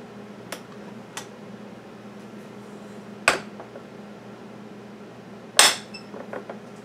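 A knife cuts scone dough on a work surface, giving a few sparse, separate clicks and knocks over a steady low background hum, with the loudest contact near the end.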